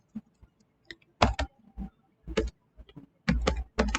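Keys clack on a computer keyboard in scattered clusters, several quick presses grouped together with short pauses between, close and distinct in a quiet room with no talking.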